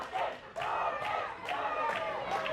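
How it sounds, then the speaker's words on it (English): A wrestling crowd at a CWF title match chants a wrestler's name in loud, rhythmic bursts, roughly every half second, close and continuous. "The crowd is chanting for Dawkins."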